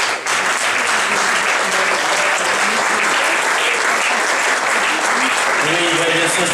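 Audience applause for a troupe of performers at a street-arts festival, a dense, steady roar of many hands clapping that holds loud throughout, with a few voices rising faintly near the end.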